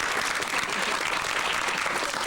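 Audience applause at an outdoor show at Epcot Center's England area, a dense, steady wash of many hands clapping together, loud and continuous throughout with no pauses.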